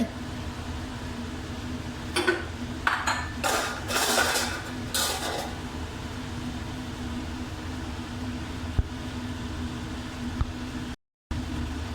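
A large pot of boiling chicken soup being opened: clattering metallic lid clanks and scrapes in a short burst, then the steady bubbling hiss of the soup and a faint background hum, with no talk.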